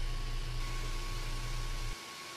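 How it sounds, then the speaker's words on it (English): Large ripping blade on a saw cutting a V groove in cabinet stock, a steady, even motor whine with a low drone that drops away near the end. "I'm using a large ripping blade, and that creates a really nice V groove"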